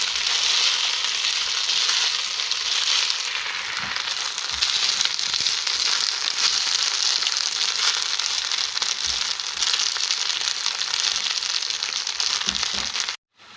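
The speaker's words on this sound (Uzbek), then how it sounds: "Guruchlarimizni 2-3 daqiqa qovurib" Rice grains fry in a pan, producing a loud, continuous close sizzle that runs unbroken and then cuts off abruptly at the end.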